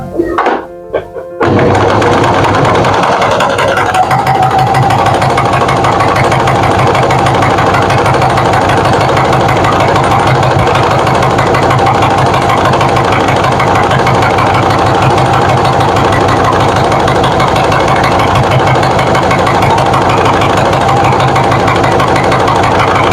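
A sewing machine stitches pillowcase strips for a tote bag, a loud, close, rapid mechanical chatter that keeps running steadily for about twenty seconds after a short start, with no talking.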